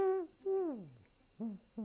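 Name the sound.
wood pigeon call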